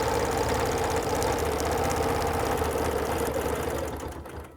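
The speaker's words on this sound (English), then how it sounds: "I'm going to stitch right to that edge" Sewing machine stitching a fabric table runner along a ruler edge, a steady loud mechanical whir with rapid needle rhythm running continuously before fading out at the end.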